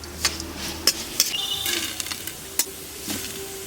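Garlic fries in a pan for poondu milagu kulambu under a faint, steady sizzle, while a utensil scrapes and stirs and gives several sharp clinks against the pan at close range.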